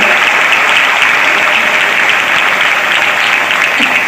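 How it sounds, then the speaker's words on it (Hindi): Loud, dense applause from a large crowd greets Madhya Pradesh Chief Minister Shivraj Singh Chouhan at a public event in Barwani, a steady unbroken roar of clapping throughout. "जोरदार तालियां माननीय यशस्वी मुख्यमंत्री शिवराज सिंह जी चौहान के लिए।"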